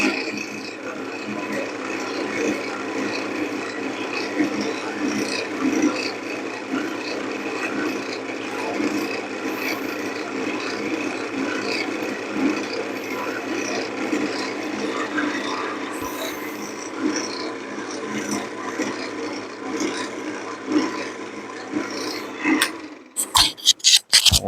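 A CA finish is sanded with 12,000 grit abrasive: a steady, close, continuous rasping rub that runs unbroken for over twenty seconds, then stops with a few sharp knocks at the end.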